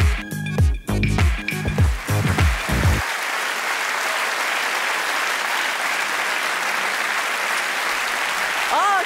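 A few seconds of harmonic talk and tones, then steady broadband applause from a stand-up comedy audience that carries on evenly to the end.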